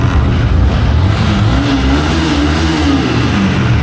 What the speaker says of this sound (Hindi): गाड़ी तो स्टार्ट हो गई